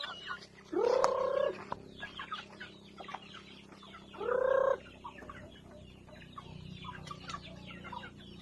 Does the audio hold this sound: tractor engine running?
no